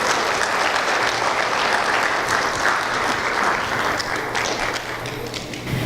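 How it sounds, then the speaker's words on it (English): A sustained round of applause rises from the crowd at a commencement ceremony, steady, even clapping from many hands throughout, with a few sharper nearby claps standing out. "Let's give them a great round of applause."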